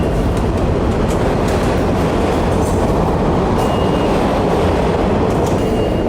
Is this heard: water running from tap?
no